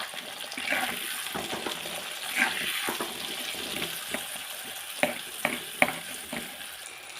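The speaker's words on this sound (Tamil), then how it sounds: "இப்போது நம்ம சின்ன வெங்காயம் போடலாம். பூண்டும் போட்டுக்கலாம். நல்லா வதக்கி விடுங்க." Small shallots and garlic frying in a pan for a Tamil vegetable-free kuzhambu, a steady close sizzle with scraping stirs and a few sharper clinks of the spoon against the pan.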